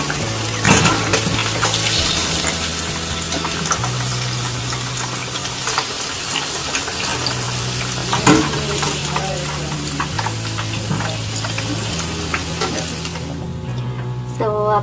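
Fish for Lahori fish fry frying in hot oil, a loud continuous sizzle with crackles and occasional metal utensil clinks, the hiss thinning near the end.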